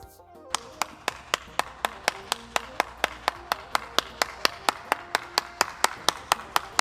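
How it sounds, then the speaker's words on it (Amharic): A woman claps her hands alone, a steady run of about two dozen sharp, evenly spaced claps at a moderate pace, close and clear over faint room tone with no talking. "እስቲ አንዴ አጨብጭቡልኝ፣ በእናታችሁ አንዴ አጨብጭቡልኝ"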